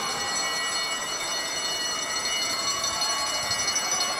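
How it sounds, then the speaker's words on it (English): A last-lap bell rings at a junior track cycling national championship race in a velodrome, a sustained bright ringing over a steady wash of crowd and arena noise. "he'll get the bell."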